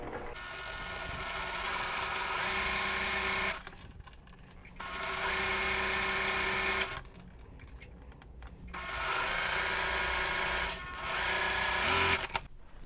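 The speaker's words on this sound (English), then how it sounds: "Let's go ahead and sew." A sewing machine stitches a quilt seam in three steady whirring bursts, separated by short pauses.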